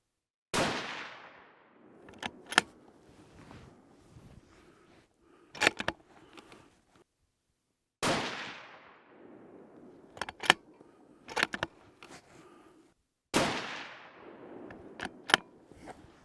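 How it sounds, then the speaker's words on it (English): Three loud rifle shots fire reloaded ammunition in a row, each a sharp crack with a ringing tail, spaced several seconds apart and followed by metallic clicks and clatter of the action cycling. "let's go ahead and cycle these through the rifle and see how they're going to shoot"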